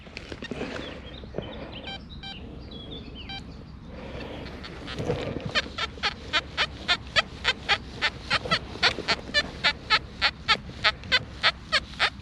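A metal detector reacts to a low-conductivity target with a steady train of short, evenly spaced chirping beeps, loud and close, after a quieter stretch of soft background noise.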